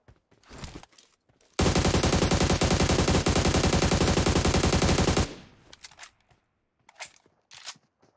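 Sustained automatic gunfire in PUBG Mobile on the Sanhok map, a loud, rapid, continuous burst lasting several seconds, with scattered quieter game sounds before and after.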